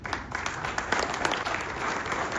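Vigorous crowd applause at an award ceremony held by a charitable trust, a thick, continuous patter of many hands clapping close and loud for the full couple of seconds.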